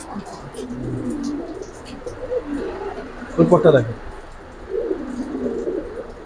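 Silver Gribaaz pigeons coo in a loft in low, soft bursts, with one louder cluster midway, while someone talks over them.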